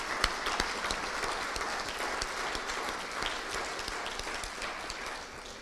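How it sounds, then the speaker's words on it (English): Audience applause at a college alumni awards luncheon, steady dense clapping from a room of guests that holds for several seconds and tapers slightly at the end. "let's give her a round of applause"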